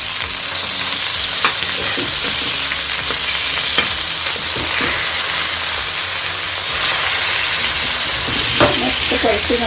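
Bombay duck fish frying on a hot tawa, a loud continuous sizzle with scattered scraping and stirring clicks from a spatula, no talking.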